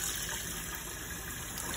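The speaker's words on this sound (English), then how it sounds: "so I'm gonna put some cool water" Cool tap water runs into a sink in a steady, even gush, close and continuous from start to finish.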